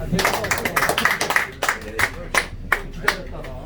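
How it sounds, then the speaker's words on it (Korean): Audience clapping in a Korean restaurant at a birthday celebration, a burst of quick claps that thins into a few scattered, separate claps, with voices talking underneath. "박수 한번 주십시오."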